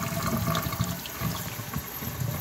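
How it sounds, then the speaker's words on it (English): Tap water pours steadily onto a Gen 3 Level 6 ECWCS OCP rain jacket, giving a soft, close splashing and trickling sound that runs on without a break and without talk. "So here we got water. I'm just gonna run it under there."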